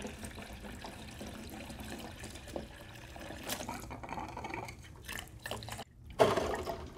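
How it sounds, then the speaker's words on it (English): Hot water rinsing through the stainless steel lines of a jockey box beer dispensing system, a steady running, trickling flow with a brief louder gush of liquid near the end, no talk. "rinse our entire system with hot water until it pushes all of the"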